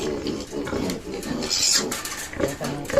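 A mother pig with her piglets makes grunts and snorting noises at close range on a farm, with a short high squeal partway through and some soft knocking in the background.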